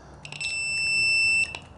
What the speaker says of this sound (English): if it's leaning too far where it can't self-level, it's gonna beep.